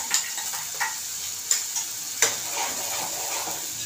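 Ground masala paste for bhendi kadhi sizzles and fries in hot oil in a pan, with occasional sharp spoon scrapes and taps against the metal as it is stirred, close and continuous.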